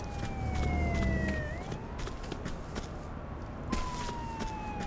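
Wailing siren of a fire brigade truck in the game Grand Criminal Online, two sliding tones rising and falling steadily for the whole stretch over a low engine rumble and sharp game effects, with no talk.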